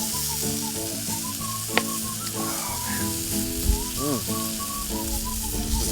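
Breakfast sizzles and fries on an outdoor kettle grill, a steady close crackle running throughout with a few sharp pops and faint clinks.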